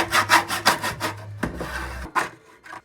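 A saw blade cuts through wood boards clamped down for a low-cost workbench build, giving a series of rhythmic rasping strokes that slow and then stop, with a couple of final short scrapes.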